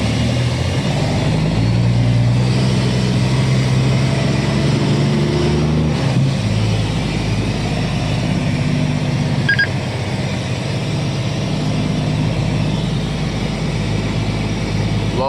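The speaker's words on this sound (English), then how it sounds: "Very important to release your brakes before you continue to drive away" Big rig tank truck on a snowy road, a loaded wide rig, with a deep steady diesel rumble heard from inside the cab as it pulls away; a sharp air-brake hiss near the six-second mark is followed by continuous engine drone.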